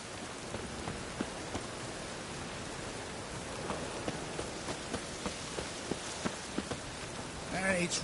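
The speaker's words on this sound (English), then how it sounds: "It's raining again." Steady rain hisses down in The Witcher 3: Wild Hunt, a dense even wash with scattered heavier drops ticking through it and a brief rougher burst at the very end.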